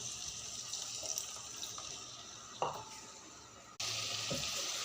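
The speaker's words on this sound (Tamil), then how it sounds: "இப்போ இதில் புளி ஊற்றலாம் புளி கரைச்சல்" Tamarind water is poured into a hot pan while cooking a Kerala-style ulli theeyal, giving a steady liquid sizzle with a small splash and a louder rush of pouring near the end.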